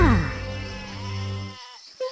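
One sheep gives a single drawn-out bleat with a wavering, quivering tone, loud and close, then it cuts off abruptly.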